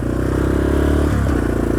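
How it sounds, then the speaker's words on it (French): A Yamaha Raptor 350 quad's engine pulls away after the clutch is released, a steady, loud, close engine drone with rattly clatter and a shift in pitch partway through, no talking. "on débraye et puis ça part tout seul comme une moto de cross en fait"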